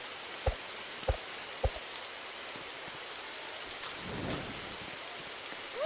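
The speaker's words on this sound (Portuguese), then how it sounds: "Meu Deus, que chuva chata!" Video game rain hissing steadily across the whole stretch, with a few sharp drop-like taps early on and a soft rumble of distant thunder toward the end.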